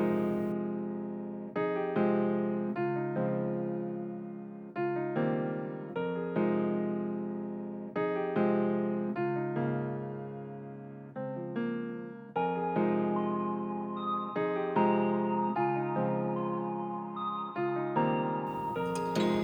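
A piano plays a sequence of sustained chords, each struck and left ringing before the next, steady and moderately loud with no voices.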